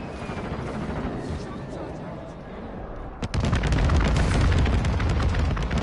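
A grenade explodes in Call of Duty: Modern Warfare 2 beta, a sudden loud blast cutting through gunfire, followed by sustained rumbling and rapid shots, with a faint voice underneath.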